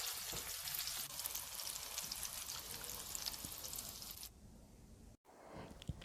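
Persian meatballs fry in a pan, a dense, steady crackling sizzle up close that drops away abruptly near the end, followed by a brief gap and a few softer pops.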